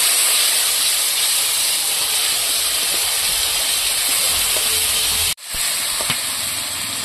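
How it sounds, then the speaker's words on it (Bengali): Prawns frying with spices in a pan, a loud continuous steamy hiss and sizzle filling the clip, with a brief dropout near the end before the hiss resumes. "মশলার সাথে মাছটা একটু ভালো করে কষিয়ে নেব।"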